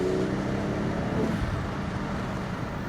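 A Toyota Aristo sedan with a twin-turbo 2JZ engine pulls steadily, a continuous low engine drone with a rising tone that dips partway through, heard from inside the cabin with no talking.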